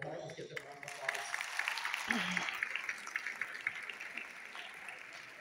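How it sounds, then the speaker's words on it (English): Audience applause at a high school Christmas concert in Hudson, Florida, a moderate, steady patter of clapping from a crowd that fades gradually, with a voice heard briefly at the start. "Let's get them a round of applause."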